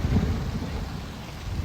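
Rain falls outdoors at Huntleys Point in Sydney, Australia, as a loud, dense, steady wash of drops with a slightly heavier burst at the start and no voices.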